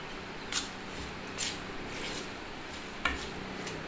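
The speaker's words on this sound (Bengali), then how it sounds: "এটাকে ভালো করে ডিম আর জল দিয়ে একটু বেটারটাকে তৈরি করছি" Egg and water batter being stirred in a bowl, a few sharp scraping clinks of the utensil against the bowl spaced out over quiet background hiss.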